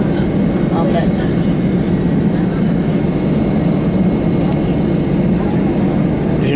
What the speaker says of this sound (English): Another airplane coming in.